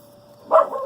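A single dog lets out one short, close bark or yip, preceded by a faint steady hum.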